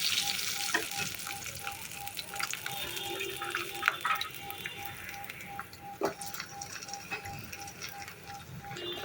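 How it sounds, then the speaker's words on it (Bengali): Chopped coconut frying in hot ghee for a tempering, a steady close sizzle with crackles and occasional stirring scrapes, alone without talk. "ঘি দিয়ে আমি নারকেল কুচিগুলো দিয়ে দিলাম।"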